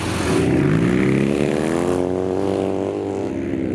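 A 1954 Triumph Tiger motorcycle races nearby, its engine droning loud and steady with a rising pitch as it accelerates, with no talking over it.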